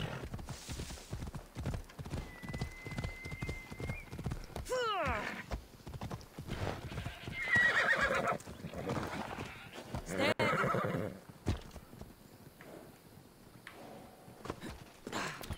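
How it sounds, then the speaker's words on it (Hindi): A horse in Assassin's Creed Odyssey gallops with rapid rhythmic hoof clip-clops and lets out a loud neigh, while someone talks over the game sounds throughout. "घोड़े साहेब आ जाओ।"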